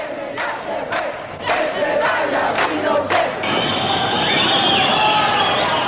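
A crowd in Santiago shouts a repeated chanted cry at passing police, several loud rhythmic bursts of massed voices over a dense, continuous roar of crowd noise.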